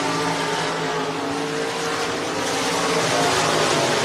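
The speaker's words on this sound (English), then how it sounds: "He's going to try and battle and get that 5th place spot away from Tachney in heat race number 1" SportMod race cars roar around the dirt oval at Hancock County Speedway during a heat race, a loud, continuous engine drone that swells slightly toward the end, with no voices.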